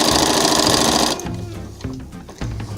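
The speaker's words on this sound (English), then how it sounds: "I'm going to sew a basting stitch about 1/2 inch in" A sewing machine runs a basting stitch along fabric, whirring loud and fast for about a second, then slowing into a few separate, choppy bursts as it nears.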